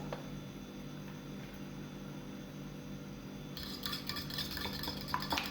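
Egg mixture with coriander, green chillies and spring onion is stirred in a bowl, a faint, steady scraping at first that turns into busier, louder clinking and tapping of utensil against the dish.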